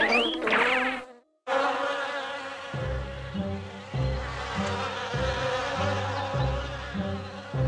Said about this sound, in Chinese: 愤怒的蜜蜂。